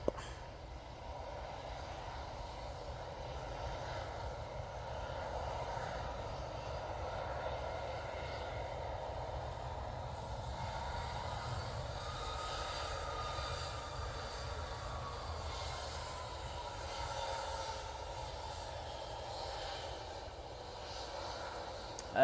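A propeller aircraft at Manchester Airport produces a faint, steady engine drone with a tonal hum, continuous and distant, its pitch shifting slightly midway.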